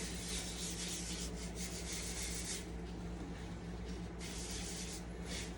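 Steady, close rubbing and rasping of sanding paste against a Bradford pear wooden bowl, a continuous gritty hiss with slight surges and no voices.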